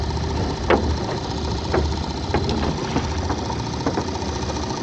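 A small boat engine motors steadily while crab pots and rope are laid out, giving a continuous close, moderately loud chugging drone with occasional knocks and clunks over it.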